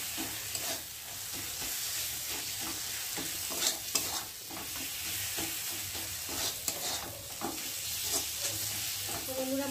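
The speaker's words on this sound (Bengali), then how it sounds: "মশলাটা ভালোভাবে কষিয়ে নিয়েছে" Spice masala with tomato and garlic is stir-fried in a pan for a fish dish, a continuous close sizzle with repeated scraping strokes of a spatula and occasional sharper clinks.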